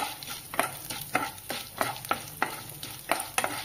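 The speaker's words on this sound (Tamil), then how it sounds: "எல்லாமே நல்லா வறுத்துக்கோங்க." Cumin seeds, black pepper and garlic cloves frying in oil in a pan, with a spatula stirring in regular scraping strokes over a steady close sizzle; no voices.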